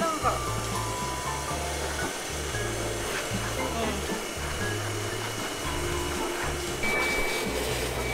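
A blower runs steadily while drying a wet husky puppy, a constant close hum with a pulsing low motor tone beneath it; voices talk over it at times.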